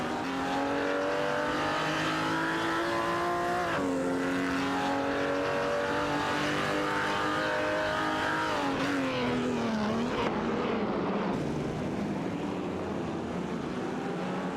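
Jaguar C-Type and Ferrari 250 Testarossa race cars in a racing video game, engines whining and shifting pitch as they rise and drop through gears, with a brief tire squeal, continuous and fairly loud with no talking.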